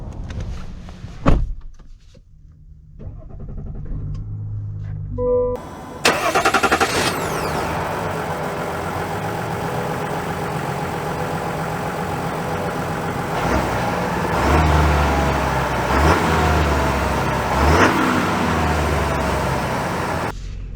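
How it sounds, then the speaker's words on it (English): A 2023 Chevy Silverado 1500 High Country with the LZ0 Duramax diesel: a door thumps shut, then the engine cranks to life a few seconds later and settles into a steady, close-up idle with a couple of throttle blips. "Let's see how the new engine drives."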